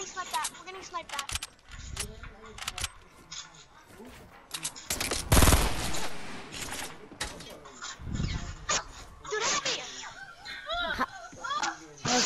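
Gunfire from a Fortnite match, with bursts of shots and sniper fire scattered across the scene and one loud blast near the middle, heard under almost constant excited talk and laughter from players.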